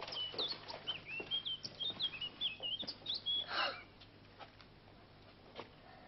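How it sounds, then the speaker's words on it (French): An old blackbird singing, a run of thin warbled and chirping phrases over a few seconds, then fading to quiet with a single later note. "Voici le vieux merle."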